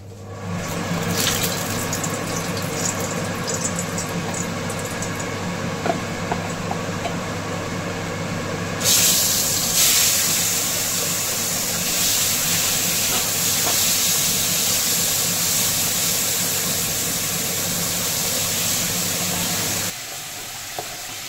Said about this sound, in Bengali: সর্ষের তেলে আগে চিংড়ি মাছগুলো ভেজে নেব।